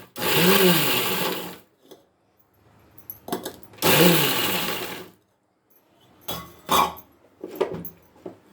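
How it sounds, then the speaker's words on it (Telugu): Mixer grinder blending soaked red chillies with salt for a chilli paste, loud whirring bursts of a few seconds separated by pauses, followed by shorter pulsed runs. "దీన్ని మిక్సీకి వేస్తున్నాము."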